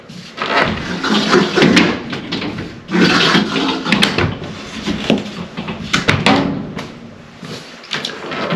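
A door in a home under remodeling, near a washer and dryer, swings shut by itself with a series of wooden knocks, bumps and clicks, loud and close.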